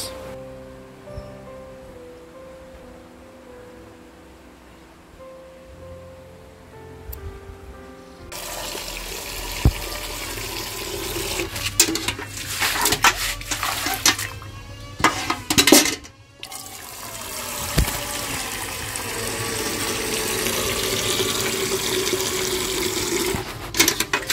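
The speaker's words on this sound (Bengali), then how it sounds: "এখানে জল নেব এক বালতি" Water gushes from a tap into a bucket at an outdoor washing spot, starting after a quiet stretch and running loud and steady with splashing surges and brief interruptions.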